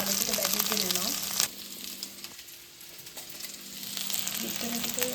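Chicken and potato pieces frying in oil in a pot, a continuous sizzle that thins out briefly and then builds again, with a faint voice in the background near the start and end.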